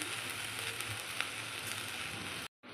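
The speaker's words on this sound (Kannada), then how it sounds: "ಒಂದು ಸ್ಪೂನ್ ಜೀರಿಗೆ ಹಾಕ್ಕೊಳ್ಳೋಣ ಇದು ಸ್ವಲ್ಪ ಫ್ರೈ ಆಗಲಿ" Cumin seeds sizzling in a hot pan for a village-style fish curry, a dense steady crackling fry throughout, close and loud, with a brief dropout near the end.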